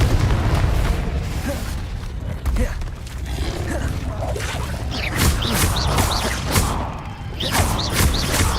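Repeated booming blasts and crashes of the Confringo fire spell in the video game Hogwarts Legacy, mixed with other spell impacts and faint voices across a dense, continuous battle soundscape.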